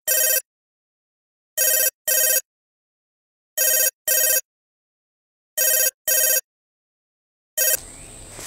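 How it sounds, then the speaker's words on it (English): A telephone rings on an outgoing call: five double-ring bursts in a steady, evenly spaced rhythm, clear and alone, ending in a brief burst of noise as the line connects. "Okay, it's ringing."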